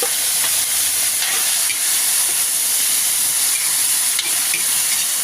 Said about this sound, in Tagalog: gisahin natin ang gabi